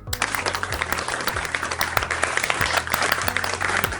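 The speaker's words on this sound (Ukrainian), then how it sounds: "оплески." Applause added as a sound effect in a children's finger-play song, dense steady clapping filling the whole moment, loud and alone, with a low rhythmic musical beat underneath.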